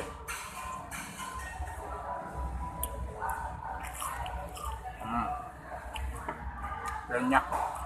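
Close crunching and chewing of crispy fried chicken skin from ayam penyet during a mukbang, with moist, irregular bites and mouth sounds continuing steadily throughout.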